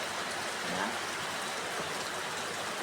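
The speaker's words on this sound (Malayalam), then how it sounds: "നല്ല മഴയാണ് ഇവിടെ സൗണ്ട് കേൾക്കുന്നുണ്ടോ" Heavy rain pours steadily outside a house, a uniform hiss of falling water with no breaks, moderately loud and heard alone.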